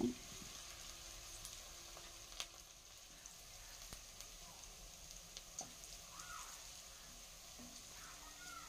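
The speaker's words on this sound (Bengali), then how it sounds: "ভালোভাবে নেড়ে চেড়ে বড়াগুলোকে ভাজতে হবে।" Raw green banana fritters fry in oil, making a faint, steady sizzling hiss with occasional light ticks and pops throughout.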